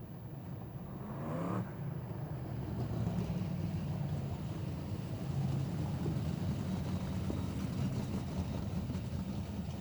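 A modified race car engine at Greenstone Park Speedway cranks and catches, then settles into a loud, steady, rumbling idle that holds for the rest of the stretch.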